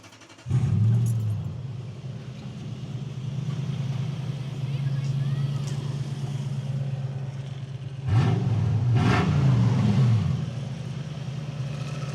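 A Lexus GX470 engine with its exhaust removed starts up and idles with a loud, raw, rumbling drone, then revs sharply twice near the end; voices speak faintly in the background.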